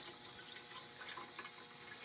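Water drains steadily from a humidifier's sediment-filled steam canister, a faint continuous trickling wash with no pauses.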